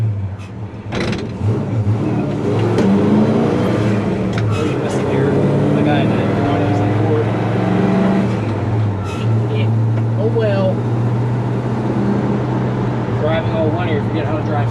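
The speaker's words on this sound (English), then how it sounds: "The granny gear in this thing, you don't even need give it any gas, it just goes." A 1965 Chevy C10 pickup truck crawling along in low granny gear without throttle, its engine a loud steady low drone heard from inside the cab, with a brief knock and faint shifting sounds and no talk.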